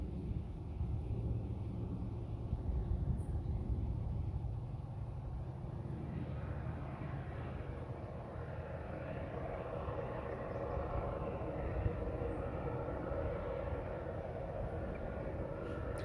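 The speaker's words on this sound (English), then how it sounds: "I got some noisy truck driving up there anyhow" A noisy truck drives somewhere up the road in a rural setting, a continuous low rumble heard at a distance, steady and unbroken, with no voices.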